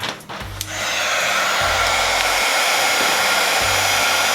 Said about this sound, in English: So the heat gun is gonna help us blend some of these colors together.